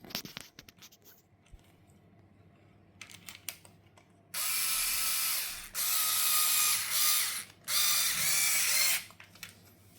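Ratcheting and tool noise from tightening a Garmin bracket onto a Brompton T-Line bike, with faint clicks early on, then three loud sustained bursts of rapid mechanical whirring or ratcheting separated by short pauses, close by, with no talk.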